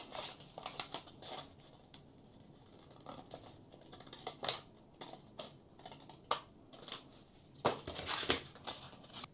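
Scissors snip through cardstock paper in a run of crisp, close cuts, with quick uneven bursts and short pauses between strokes.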